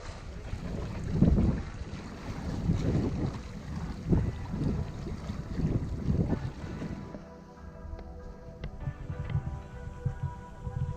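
Wind rushes steadily past a sailboat under way at sea near Poros, Greece, a broad roar with gusty swells that eases after about seven seconds, leaving lighter breeze and faint rigging tones.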